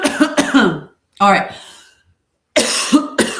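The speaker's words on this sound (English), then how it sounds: "Stop coughing a little bit for a minute here." A person coughs several times in short harsh bursts, close to the microphone, with brief silences between them and a little speech mixed in.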